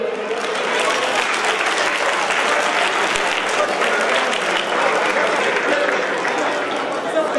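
Audience at a birthday celebration ceremony with a foundation's donation handout, breaking into steady, dense applause that fills the whole stretch with continuous clapping.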